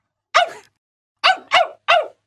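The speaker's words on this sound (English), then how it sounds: "looked at his master and barked happily" A dog barks four times nearby, one bark followed by a pause, then three quick barks in a row.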